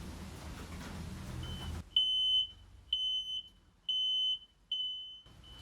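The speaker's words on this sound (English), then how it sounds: "It always starts with an alarm when you put it on" A loud electronic alarm from a rise-and-fall workbench as power from new batteries is connected sounds in four or five sharp, high-pitched beeps at a steady rhythm, following a brief stretch of rustling noise.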